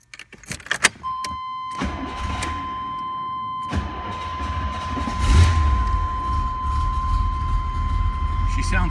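A restored 1979 Corvette with a four-speed gearbox and its unmodified exhaust cranks briefly, then fires and settles into a steady, loud idle. A blip of revs swells around the middle before it returns to a rumbling idle.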